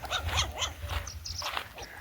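Several small newborn puppies yip and whimper in quick, high-pitched bursts, close by and fairly faint, one after another.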